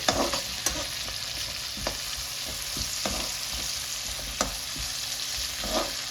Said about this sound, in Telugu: సేమ్ నూనెలో వేయించుకుంటున్నాను